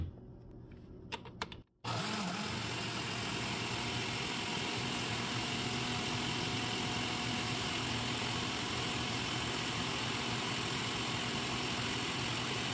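A blender grinds pineapple with water for agua de piña, starting after a brief pause and then holding a loud, steady motor whir with a dense, grinding roar for the rest of the clip.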